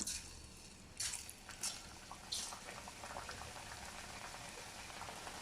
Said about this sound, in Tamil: இப்போ வானல் விட்டு அதில் தேவையான அளவு எண்ணெய் விட்டுருக்கேன் பொரிக்கிறதுக்காக.